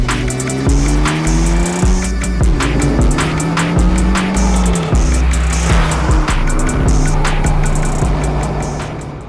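A Honda Civic Type R engine roars continuously at high revs, with shifting pitch as it accelerates and changes gear, loud and close throughout, no talking.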